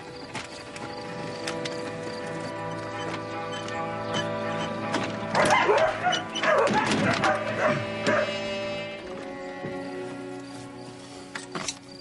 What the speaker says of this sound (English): You've not had any barking around here, have you?